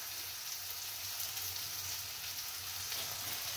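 Fish frying in white oil in a pan, a dense, even sizzle like steady rain, constant and close throughout.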